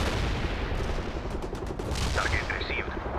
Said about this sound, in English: Request fire support. Commencing the barrage.